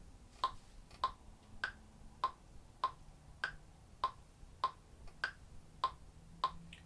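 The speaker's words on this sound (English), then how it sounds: "let's get our metronome set with the metronome in 3/4" Metronome set to 3/4 at tempo 100 with an accented downbeat, steady close clicks about 0.6 seconds apart, every third one pitched differently, ticking alone in a quiet room.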